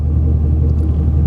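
A straight-piped Ford Mustang engine rumbles loud and close, a deep continuous throaty exhaust drone with steady low pulsing and no other sounds.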